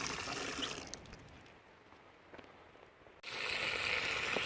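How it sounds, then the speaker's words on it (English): Water pours steadily into a washing tub of clothes for the final rinse in an off-grid washing setup, a close, continuous rushing that softens in the middle and then surges back loud, with no talk. "Just letting the water fill up and get the rest of the soap out of it"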